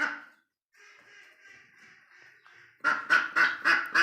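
Ducks at a bird market in Dera Bugti, one a drake with an injured leg, give a few faint calls and then a loud burst of four or five rapid, rhythmic quacks close by, with no one talking.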